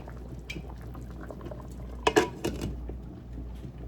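Caribbean seafood soup simmering in a pot on the stove, with soft bubbling and a brief louder burst of liquid activity midway, fairly close and without talk.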